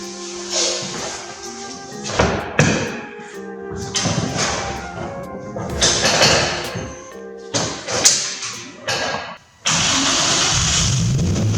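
A Nissan 350Z race car with a swapped-in Maxima engine cranks repeatedly in stuttering bursts with thumps and brief pauses, then catches and settles into a loud steady idle, all close up.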